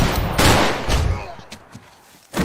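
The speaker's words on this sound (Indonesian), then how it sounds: "Alhasil saat baku tembak berlangsung, si Rick harus terkena tembakan" Gunfire in a film shootout, several sharp loud bursts with short gaps between them, the last one hitting after a brief lull.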